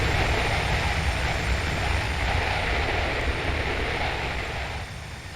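A simulated Airbus A330 with GE CF6 engines roars in a flight simulator game, a loud, steady broadband whoosh that holds constant before easing slightly at the end.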